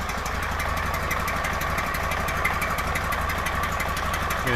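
Idling Honda Valkyrie Interstate motorcycle with an exhaust leak, a steady close-up rumble with a fine ticking pulse that holds evenly throughout, with no talking.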